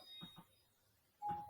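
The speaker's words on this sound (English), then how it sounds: "That was my doorbell." A home doorbell rings: two short soft chimes, then a third tone after a pause, faint and fairly distant in a quiet room.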